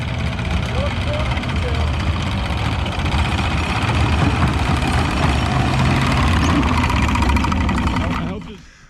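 A Weasel tracked vehicle's engine runs steadily and loudly at close range with a low, rough rumble throughout, then cuts off near the end.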